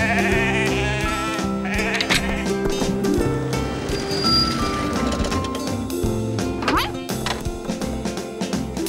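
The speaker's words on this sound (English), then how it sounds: "We're moving the sheep up to the hillside." Cartoon sheep being moved up to a hillside bleat repeatedly over a busy background of music and effects, the calls loud and close, with a few scattered knocks in between.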